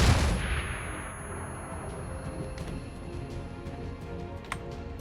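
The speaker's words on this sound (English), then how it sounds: "We'll do a flashbang for what it's worth." A flashbang grenade goes off in XCOM 2 with a sharp, loud bang that decays into a rumbling tail, followed by scattered faint clicks and a small crack.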